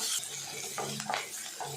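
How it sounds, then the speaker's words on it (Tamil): Sliced onions with dried chillies and curry leaves being sautéed in a pan: soft stirring scrapes and light clinks of a utensil against the pan over a faint sizzle, close and quiet. "சேர்த்துட்டு எல்லாத்தையும் நல்லா வதக்கி விட்டுடலாம்"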